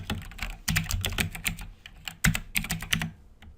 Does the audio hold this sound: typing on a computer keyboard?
yes